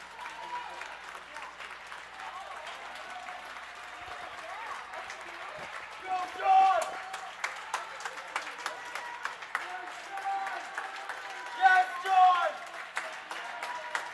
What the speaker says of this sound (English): The crowd going wild for lane 8, who we are assuming is Sean Clancy